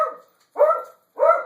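Dogs bark during a farm chicken-chore routine, with three separate barking bursts spaced about half a second apart, moderately loud and close, with no talking.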